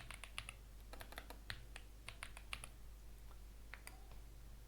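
Typing on a computer keyboard to enter a command in the Windows command prompt: rapid irregular key clicks in bursts, close and crisp over a low steady hum, with a pause near the end.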